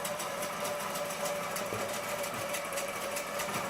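A Butler Robotics longarm quilting machine runs at a steady pace, stitching across a quilt with a constant mechanical whir and fast regular needle pulses, close by and with no talking.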